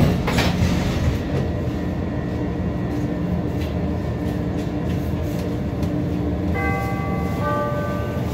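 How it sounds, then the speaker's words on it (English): A Chicago L Orange Line train bound for Midway runs steadily with a continuous rumble and rail noise, and a few brief tonal chimes sound near the end. "This is an Orange Line train to Midway."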